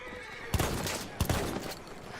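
A horse neighs in the Battlefield 1 video game, two short whinnies about half a second apart over a faint background, with no talking.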